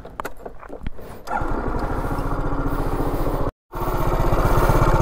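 An unmodified vehicle with a clean engine is started: a second of faint clicks and handling noise, then the engine catches and settles into a loud, steady pulsing idle, briefly cut off near the end before resuming.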